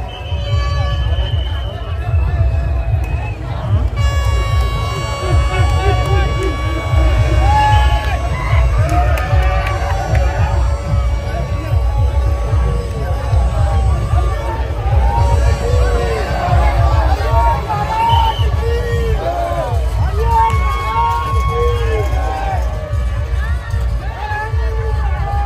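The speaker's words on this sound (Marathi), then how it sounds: "इथे तुम्ही जरा असा जल्लोष जो आहे तो जरा ऐका, काय भारी जल्लोष करत ही कावड पुढे जात होती" A large crowd at a Kawad Yatra procession in Akola cheers and shouts continuously, with whoops and children's shouts over a dense, loud babble and a steady low rumble throughout.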